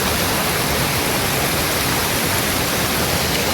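Thumba forest waterfall at Jagamarla near Palamaner, a loud, steady, broadband roar of falling water that continues unbroken, close by, with no voices.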